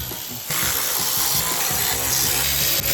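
A power tool with a T40 Torx bit runs off transmission bolts on a ZF 6-speed gearbox, a continuous close hissing whir that starts after a brief pause and holds for a couple of seconds.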